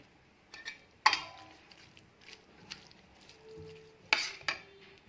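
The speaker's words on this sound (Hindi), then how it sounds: "अब मैं इसके अंदर ऐड करूँगी कद्दू और इसको अच्छे से करूँगी मिक्स।" Pumpkin is stirred into yogurt for kaddu raita with a spoon, giving soft scraping and a few sharp clinks against the bowl at irregular moments, quiet between strokes.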